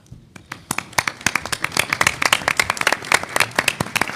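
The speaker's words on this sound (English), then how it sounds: "please stand so we can give you a round of applause" An audience at an AUSA military forum applauds, a burst of crisp hand claps that starts sparse and swells into dense, steady clapping from a crowd in a hall.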